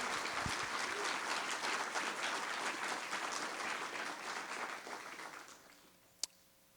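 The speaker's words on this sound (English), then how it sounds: "please accept our applause for your incredible service" Audience applause fills a lecture hall at an evening distinguished lecture series event, steady dense clapping that tapers off toward the end with a sharp click near the close.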